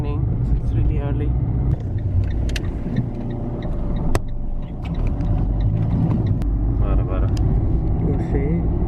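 Cars pass along a quiet early-morning street in Italy, their steady road rumble continuous and fairly close, with someone talking over the traffic throughout.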